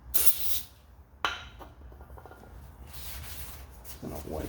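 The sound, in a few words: brake cleaner being sprayed onto a surface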